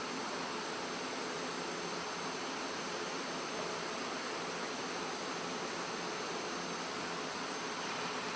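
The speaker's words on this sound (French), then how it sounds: "on voit bien la puissance du laser sur la tôle" Laser cutter tracing contours in sheet metal: a steady, loud, broadband hiss and roar that holds without a break, like a jet or vacuum, with no speech.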